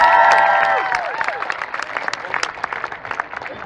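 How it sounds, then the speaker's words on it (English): A crowd at the Eat Vancouver 2014 food event applauds chef Chuck Hughes, dense clapping that swells at first then thins into scattered claps, with a voice over the start. "please, a warm round of applause for Chuck Hughes"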